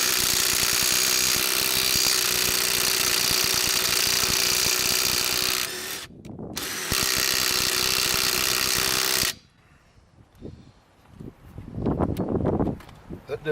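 A Bauer 20 volt cordless impact driver from Harbor Freight hammers loudly in a long continuous burst, stops briefly, then resumes before cutting off abruptly, followed by quieter handling noises and someone speaking close by.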